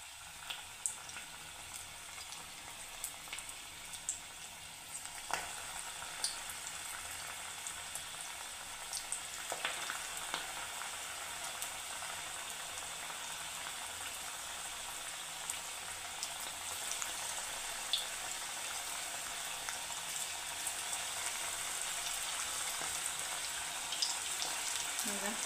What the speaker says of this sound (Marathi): आणि मीडियम गॅसवर यांना आता आपल्याला छान असं तळून घ्यायचं आहे